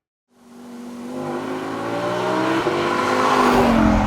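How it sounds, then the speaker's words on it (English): Audi R8 Spyder's V10 engine revs up from idle, a steady, close, building drone that grows louder over a few seconds, with no talking. "It's a cracker of an engine."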